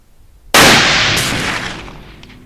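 A single loud rifle shot from a Verney-Carron L.A. carabine chambered in .300 Winchester Magnum, fired toward a 100-metre target, with a sharp blast and a long decaying echo afterward.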